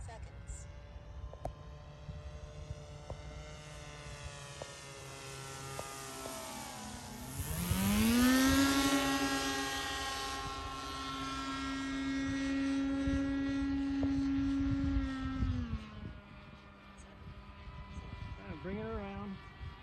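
An 83-inch RQ-7 Shadow RC aircraft from Legend Hobby makes a slow pass on its maiden flight. Its buzzing propeller drone swells from faint to a steady, close whine, holds, then fades as it moves away, with people talking nearby.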